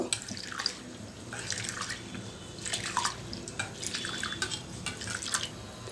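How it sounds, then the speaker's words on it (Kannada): Toor dal lentils being washed by hand in a vessel, water sloshing and dripping in uneven bursts, close and moderately loud, with small splashes scattered through. "ಬೇಳೆ ಎಲ್ಲ ತೊಳೆದಿದ್ದೀನಿ"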